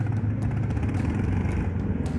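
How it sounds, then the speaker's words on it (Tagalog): A big motorcycle engine rumbling close by, a loud, rough, continuous growl with slight rises in pitch as it revs. "Merong motor na malaki sa likod natin Galit ng tunog"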